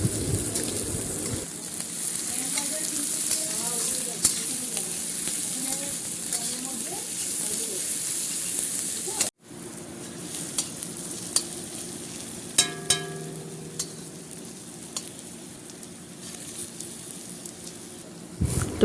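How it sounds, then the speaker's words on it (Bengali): Onion, garlic and tomato fry in a pan with a steady, hissing sizzle and occasional stirring clinks. A voice talks faintly under the frying in the first half. "এই যে দেখো, পেঁয়াজ আর রসুনগুলো একটু ভেজে নেবে, সাথে টমেটোটাও দিয়ে একটু ভেজে নেবে।"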